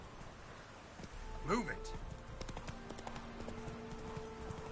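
Horse hooves clip-clop in the Witcher 3 video game, a soft, steady trot under faint background ambience, with a brief rising whinny-like cry and someone speaking a few words.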